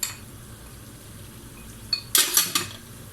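Corn flour tipped into a soup pot and stirred while making chicken corn flour soup, giving a few quick scraping clinks and rustles near the end against a quiet background.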